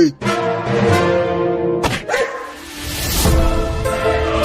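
A cartoon dog barks and yelps, loud and close, several sharp barks with whining tones in between, sounding like a voice actor's animated barking.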